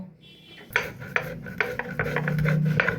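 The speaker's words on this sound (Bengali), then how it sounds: "এই রেসিপিটা করার জন্য প্রথমে গোলমরিচ আর গোটা গরম মশলা আমি একটু বেটে নেব।" Black pepper and whole garam masala spices being ground on a stone, heard as a series of close, rough rasping strokes in an uneven rhythm that build into steady grinding, with no talking.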